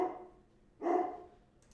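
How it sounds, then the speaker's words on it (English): A dog barks indoors, two short bursts spaced apart, moderately close and fairly quiet, with no other sounds around them. "Dog started barking."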